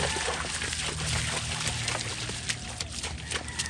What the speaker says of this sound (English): in the water, you'll hear when she's changing speed because you'll hear the splashes being different.